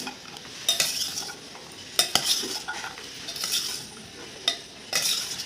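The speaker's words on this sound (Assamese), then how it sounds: "এনেকৈ মিলাই ল'ম।" A spoon scrapes and clinks repeatedly while mixing a chaat mixture with tamarind chutney in a bowl, in close, fairly loud strokes with a soft wet churning between them and no talk.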